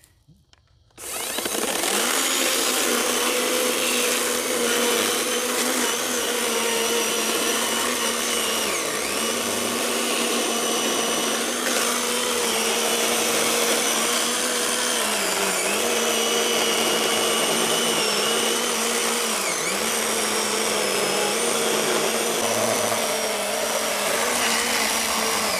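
A Toro 60V cordless chainsaw cuts through a thick log about 16 inches across, a loud, steady high-pitched motor whine running continuously with slight dips in pitch as the chain bites into the wood.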